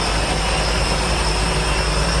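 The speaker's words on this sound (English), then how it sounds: "Always bring them back to idle. Let the engine settle a little bit" An engine idles with a steady, unbroken drone before shutdown, close and fairly loud, with no voices over it.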